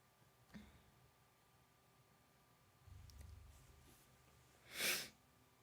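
A single sneeze bursts out sharply near the end, preceded by quiet breathing and a soft sniff in an otherwise hushed room.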